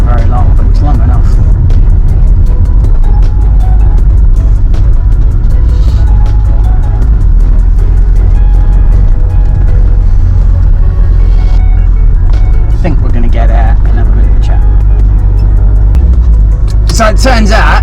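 A Porsche 911 rolls along a country gravel road, its steady low engine and tyre rumble continuous and loud inside the car, with people talking over it and a brief crunchy burst near the end.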